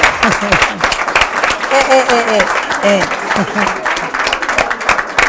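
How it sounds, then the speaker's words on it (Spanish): An audience claps for guest Nuria Lloret on a talk show, steady applause running throughout while voices talk over it. "le vamos a dar un gran aplauso a Nuria"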